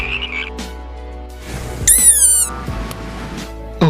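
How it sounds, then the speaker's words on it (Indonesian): Frog croaks stated to be a typical frog's call, heard as a short series of tonal, harmonic calls with a brief rising whistle-like burst midway, fairly close and clear with no talking. "Seperti inilah suara kodok sebenarnya."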